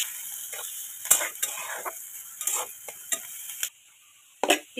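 Onion tempering with mustard seeds and cumin gets stirred in a pan, a spoon scraping and clinking against the metal in several short strokes over a quiet sizzle, with brief silent gaps between them.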